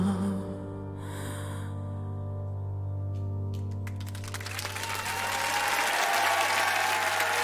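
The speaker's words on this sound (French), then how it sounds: "vous pouvez l'applaudir" Applause from a large audience at a televised 500-choristers concert, starting just after a sustained musical chord fades and swelling into loud, dense clapping that continues to the end.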